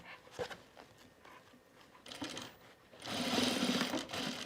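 A sewing machine stitching a bag seam in short bursts, then a longer steady run of rapid mechanical whirring and needle clatter, close and fairly quiet.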